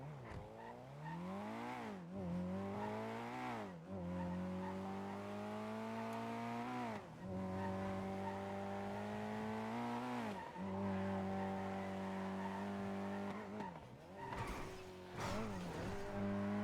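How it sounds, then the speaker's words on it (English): Car driving in the NoPixel GTA roleplay game: a steady engine drone that climbs and drops in pitch with gear changes and throttle, loud and continuous throughout. "Is the car driving differently?"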